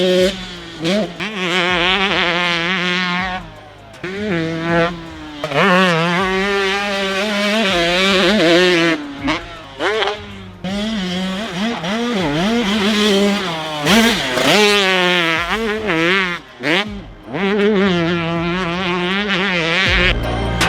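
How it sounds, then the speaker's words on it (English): A Haeseker-built KTM 150cc two-stroke dirt bike engine screams nearby, revving up and down repeatedly through the gears in loud, rising and falling bursts with brief drops between pulls. "this Haeseker built KTM 150 engine for Pasha, extremely fast, pulls strong in the top end"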